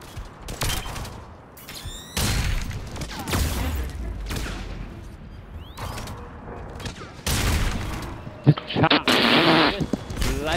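A grenade detonates during a chaotic multiplayer video game match: sharp explosive booms and bursts of gunfire come in repeated loud blasts, with a voice talking over the action.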